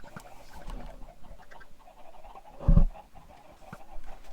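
Chickens cluck on a chicken farm in a video game, short scattered clucks and squawks at moderate distance with one louder burst midway, over a busy game backdrop.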